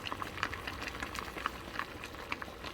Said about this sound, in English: Turn it down. It's boiling pretty good.